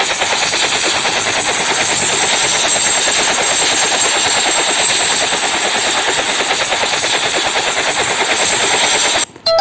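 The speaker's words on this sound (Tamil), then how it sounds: "ஹெலிகாப்டர் தானாக ஓடுது கைஸ்." Video game helicopter flying on its own, a loud continuous rotor chop with a steady high whine held throughout, ending in a brief break at the very end.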